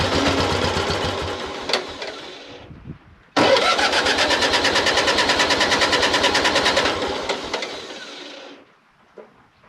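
A Mule utility vehicle's engine cranks and catches with the choke on, runs roughly for a couple of seconds, cuts out, then restarts and runs steadily near and loud for several seconds before dying away.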